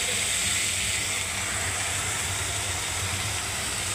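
Carrots, potatoes, spring onion greens, turmeric and capsicum hitting a hot pan, giving a steady, fairly loud broadband sizzle and hiss that continues unbroken throughout with no talking.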